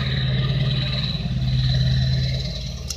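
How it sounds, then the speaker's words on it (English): A loud truck engine rumbles nearby at a residential spot, a steady low drone with a faint clattering rhythm that holds for the full three seconds with no talk over it. "that truck is being really loud and obnoxious"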